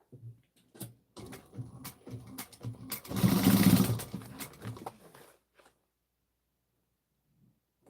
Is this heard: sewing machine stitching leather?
yes